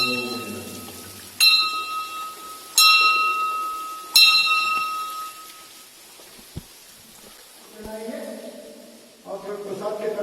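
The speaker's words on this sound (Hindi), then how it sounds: "घंटी वाजवतो." A temple bell rings three times in an even, unhurried rhythm, each clear metallic strike decaying slowly, during an offering of prasad to Ganpati on a trek; someone speaks softly afterward.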